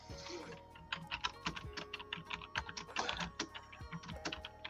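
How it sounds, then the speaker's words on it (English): Rapid, uneven clatter of keys on a loud computer keyboard, close and crisp, with irregular bursts of keystrokes throughout and no speech. "aside from the loud keyboard"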